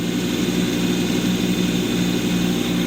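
Kubota compact tractor engine running at high RPM with the PTO engaged while snow blowing on a pond rink, a loud, close, continuous drone with no pauses.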